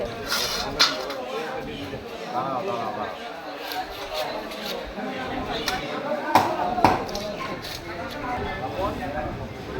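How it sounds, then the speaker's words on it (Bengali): Fish being cut up by a vendor at a pond-side fish market: irregular chopping thuds and knocks on a board under near, continuous conversation and market bustle. "মাছটা এবার আমার কেটে দিচ্ছে"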